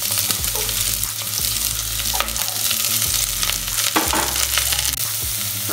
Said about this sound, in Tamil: ஸோ ஆனியனை போட்டு ஃப்ரை பண்ணணும்